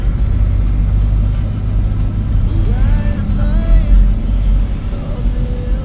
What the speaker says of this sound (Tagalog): Masyadong traffic dito.